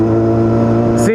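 A carbureted motorcycle engine idles steadily once warm with the choke off, a close, even, throbbing hum that holds a constant pitch and ends with a brief airy hiss.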